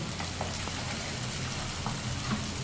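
Gravy for peri peri pasta sizzles in hot oil, a steady close crackling hiss with faint scraping, no talking.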